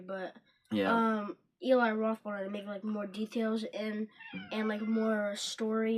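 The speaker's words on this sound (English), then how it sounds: "That's our cat." A house cat meows close by in a home, its short cries mixed in with an ongoing conversation between people talking over it.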